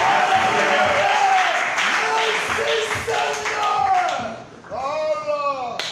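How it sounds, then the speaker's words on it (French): Applause and cheering from a church congregation during a sermon, a dense wash of clapping and crowd noise mixed with voices and shouts, briefly thinning before a sung or shouted voice comes in near the end. "Je fais des acclamations."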